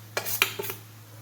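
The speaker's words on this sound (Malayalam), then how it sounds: "നല്ല ഒന്ന് മിക്സ് ചെയ്യണം." A spoon clinks against a bowl while bread crumbs and grated coconut are mixed, three or four sharp close taps over a low steady hum, then quiet.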